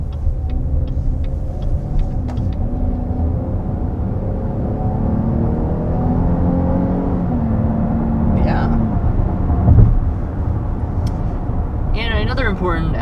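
A 2022 Chevy Blazer RS with a 9-speed automatic accelerates, a low engine hum rising through gear changes beneath someone talking throughout, with a few faint clicks in the cabin.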